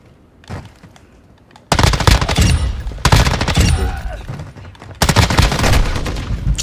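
Loud, close automatic gunfire from an M13B assault rifle in Call of Duty: Modern Warfare II, three sustained bursts of rapid shots with brief pauses, following a quieter opening with faint distant cracks.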